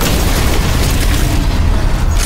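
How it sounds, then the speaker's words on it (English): A stun grenade goes off in Call of Duty: Cold War Zombies, a loud, dense, sustained boom that fills the whole clip with heavy low rumble and noise. "Stun grenade out."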